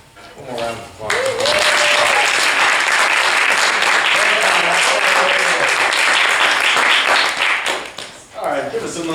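An audience at a writers' talk event breaks into loud, full applause after a voice speaks, sustained for about seven seconds before fading as talking resumes.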